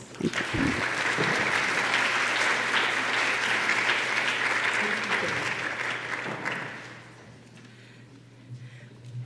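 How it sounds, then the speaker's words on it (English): Audience applause at a keynote for the 2017 WCGTC World Conference, sustained broadband clapping for about six seconds before fading out, with a low steady hum underneath. "let's welcome Dr. Jane Piirto with a round of applause"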